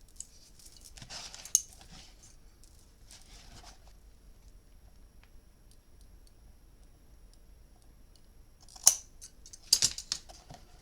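Scissors trim excess paper or card in a scrap craft project: a few sharp, crisp snips near the start and a quick cluster of cuts near the end, separated by long quiet stretches with no talk.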